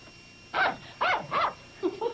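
A dog barks close by in a quiet indoor room, giving three short sharp barks followed by a pair of softer yips and whimpers.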